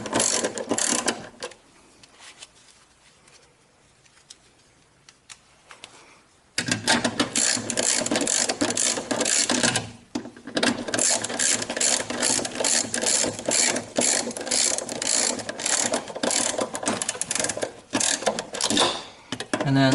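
Ratchet snugging screws on a Kenmore Elite Oasis washer during a drive bearing repair: rapid, loud pawl clicking in long continuous runs up close, broken by a short pause, after a quieter opening stretch.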